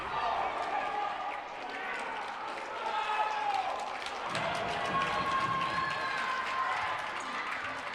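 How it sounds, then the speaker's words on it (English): A basketball-game crowd in a college gym applauds and murmurs throughout, a steady wash of clapping beneath a commentator's voice. "Crowd applauding the effort."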